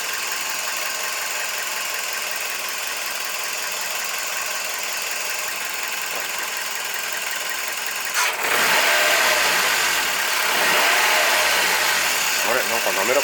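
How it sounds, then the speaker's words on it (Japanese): A car engine runs at a steady idle after a dose of Daito Junkatsu Liqui Moly Power Max LM-1101 molybdenum oil additive. The hum is close and continuous, and its tone shifts slightly partway through. "5分間ぐらいアイドリングさせておきます。"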